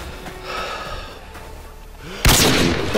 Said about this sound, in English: Now who's shooting at me?